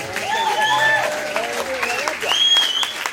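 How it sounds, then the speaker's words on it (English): Audience applause for comedian Sally Firth at a Joke Club gig in Brockham, steady clapping under voices and cheers with some tonal sound over it. "Ladies and gentlemen, a big round of applause, Sally Firth."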